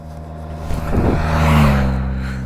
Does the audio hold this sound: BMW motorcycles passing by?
yes